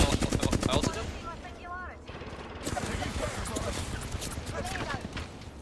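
Dense, rapid bursts of video game gunfire crackle through a firefight, loud and nearly continuous, with players talking over the shooting.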